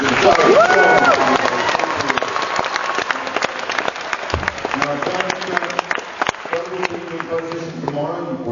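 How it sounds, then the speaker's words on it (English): Audience applause for Doug Jones at an Armageddon 2008 convention panel in Auckland: a sustained, dense crowd clapping with a voice briefly over its start, steady and full for several seconds before thinning slightly. "If I can have a massive round of applause for Mr. Doug."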